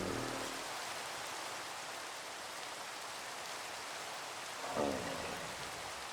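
Steady Minecraft rain hisses evenly throughout at moderate level, with a brief soft swell near the end and no voices.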